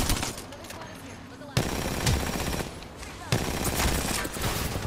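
Video game gunfire: rapid automatic bursts crackle in dense volleys with short pauses between them, heard amid game noise.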